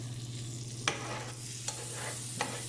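Butter sizzles steadily in a hot pan as steak pan-fries, a close, constant crackle with a low hum beneath and three sharp spatters or clinks spaced through it.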